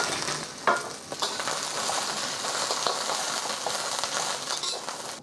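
Green beans sizzle steadily in hot avocado oil in a pan, a dense, close frying hiss with occasional soft clinks and stirring scrapes, and no voices.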